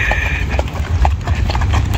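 Hooves from a ranch cavalcade clatter past nearby, a dense irregular clip-clop over a steady outdoor background, with no clear talk.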